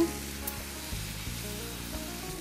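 Spice paste with salt and green chillies sautéing in a pan, a steady soft sizzle with a few faint knocks, close and even, no talk.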